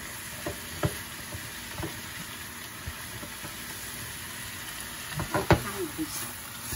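Pea shoots stir-fried in a pan with bacon give off a steady, moderate sizzle, broken by occasional scrapes and clinks of a utensil tossing them, which grow busier near the end.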